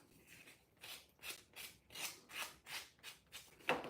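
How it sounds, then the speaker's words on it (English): Steady back-and-forth rubbing of a small sanding block rounding the edges of paper card, about eight even strokes in a slow rhythm, close and quiet, followed by a small tap. "take your little sanding block, and that's going to round those edges just a little bit better"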